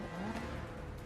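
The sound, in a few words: Aston Martin DB10 car engine in a film chase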